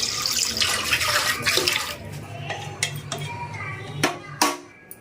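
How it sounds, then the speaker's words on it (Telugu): Water splashes and pours into dal in a pot, with clinks of metal utensils against the pot, ending in a few sharp knocks. "ఒక కప్పుకి పప్పుకి మూడు కప్పులు వాటర్ వేసుకోవాలి"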